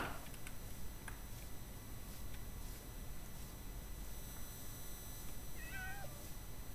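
Cats in the Minecraft video game let out a few short meows near the end, small and faint over a steady bed of game background noise.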